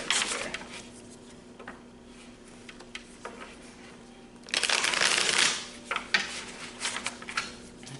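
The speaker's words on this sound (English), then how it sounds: "I feel like I need to keep shuffling" Tarot cards are shuffled close by in soft riffling bursts, quiet at first, then a loud dense riffle midway, followed by lighter taps and flicks.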